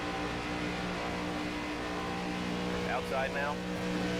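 A NASCAR stock car engine in the video game NASCAR 25 drones steadily at high speed with the throttle feathered through a turn, a constant loud roar with a faint passing whine.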